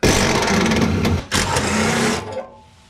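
A small Matco Tools 1/4 inch impact wrench rattles loudly and close in two quick bursts, with a short pause between them, during exhaust work on a Mk4 GTI VR6, then stops.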